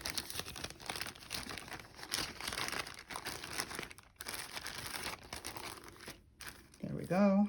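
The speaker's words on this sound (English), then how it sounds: "I usually take several of these quarters and put them into one Ziploc bag" Folded quarters of paper are pushed into a Ziploc plastic bag, making close, uneven crinkling and rustling with brief pauses, and a voice comes in right at the end.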